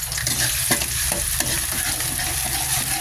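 Onions sizzle and crackle in plenty of oil in a pan, a steady loud frying hiss with occasional stirring clatters and no talk.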